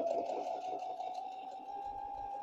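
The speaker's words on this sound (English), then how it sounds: "put my presser foot down again and sew around the pocket" Baby Lock Brilliant sewing machine stitching around a pocket on a gathered summer dress, a steady continuous motor whir with a fairly strong mid-pitched hum, heard alone and close.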